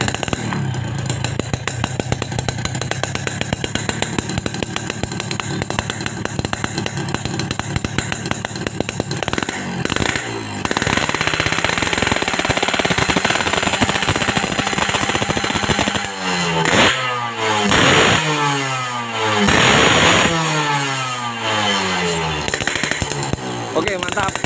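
Motorcycle fitted with a Boban C33 aftermarket exhaust revving hard at close range, giving a loud raspy buzz with repeated sharp throttle blips that rise and fall toward the end, while people talk nearby.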